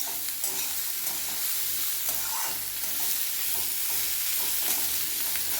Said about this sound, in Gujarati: ડુંગળીનો કલર થોડો ચેન્જ થાય ત્યાં સુધી આપણે એને હલાયા કરવાનું છે.